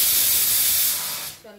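Mustard seeds sizzle in hot oil for a Kannada-style tempering for raw jackfruit palya, a dense steady hiss close by that fades out near the end.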